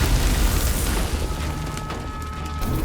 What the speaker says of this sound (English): Blue flare collides with cold air, causing violent steam explosions.